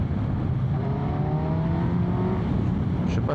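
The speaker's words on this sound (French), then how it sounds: "Je sais pas si tu as entendu le vroom vroom du moteur, c'était un test du micro ici." Motorcycle engine revving, picked up by a microphone inside a Shoei GT3 touring helmet: a steady, loud drone with rising engine tones and wind rush throughout, no talking.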